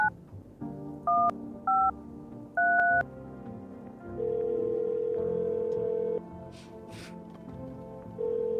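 Touch-tone dialing in a horror video game's phone roulette: a few quick keypad tones in short bursts, then a steady dial tone over faint background music.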